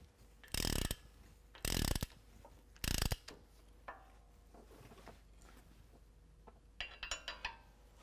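A ratchet tightening the axle nut on a 2018 Ford F-150 during a coilover lift install, heard as three loud bursts of rapid clicking followed by a shorter, quieter run of clicks.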